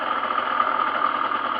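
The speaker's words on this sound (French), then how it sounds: "la moto est en route" A GPR Nude 50cc motorcycle engine runs at idle once warmed up, a steady, close buzzing drone with a slight rattling pulse and no break or change in pitch throughout.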